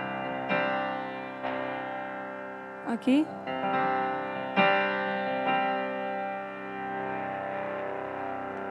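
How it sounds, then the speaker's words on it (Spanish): Nord Piano 5 played through its Small amplifier simulation drive: a string of distorted, sustained piano chords with a gritty amp tone, new notes struck about every second, and a brief spoken word in the middle. "Lo activo, el amplificador Small."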